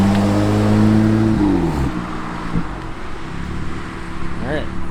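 BMW F80 M3 with an Active Autowerke equal-length midpipe, exhaust valves open, revving loudly nearby in a couple of rising and falling pulls on a street, with a voice talking over part of it.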